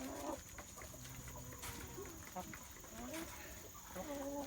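Barnyard rooster clucking softly in a farm flock, a few short, faint clucks scattered among other birds, with a person talking quietly in the background.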